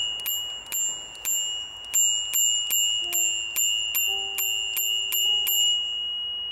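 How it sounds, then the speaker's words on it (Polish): A weak bicycle bell rings a dozen or so times in a quick, uneven series of thin metallic dings, each with a short ringing tail, heard close and alone. "Jaki słaby ten dzwonek."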